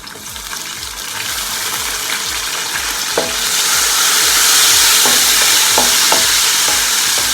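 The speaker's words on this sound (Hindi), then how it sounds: "ये प्याज हमारा फ्राई हो रहा है" Steady sizzling of onion and garlic frying in a pan, with a few clinks and scrapes of stirring partway through; the frying hiss grows louder midway.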